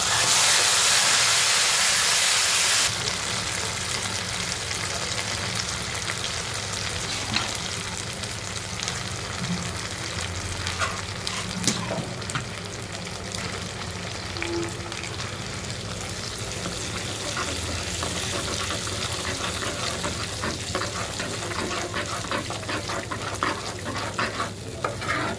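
Taro flowers (kochu phool) frying in hot oil with whole cumin, a steady close sizzle and hiss lasting throughout, with occasional stirring scrapes and a louder burst of spitting at the start.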